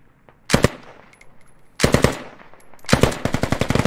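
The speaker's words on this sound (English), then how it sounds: "Someone shooting." Bursts of automatic gunfire in Squad on the Al Basrah map: three loud, close volleys of rapid shots, separated by short pauses, the last one the longest.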